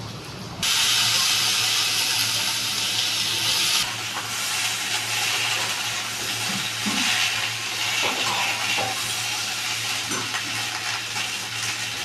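Soaked, cut Katwa drumstick stalks and green chillies hit a hot pan and set off a loud, steady hissing sizzle that starts abruptly and carries on for the whole stretch, easing slightly partway through.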